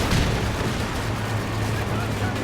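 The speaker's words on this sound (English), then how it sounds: "I'm calling a rifle grenade down right on the Rangers here" A rifle grenade detonates in Company of Heroes 2, a heavy booming blast with rumbling battlefield noise trailing off behind it, loud and close.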